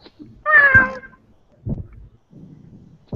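A person imitates a cat, giving one drawn-out, loud meow followed by a couple of shorter, lower vocal sounds, close and alone in a quiet space.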